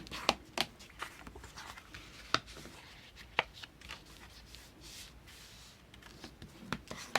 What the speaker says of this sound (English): now we're going to fold down and burnish all 3 flaps here